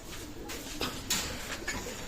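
Pakistani teddy pigeons in a breeder's loft coo softly in a low, murmuring rhythm, with faint rustles close by.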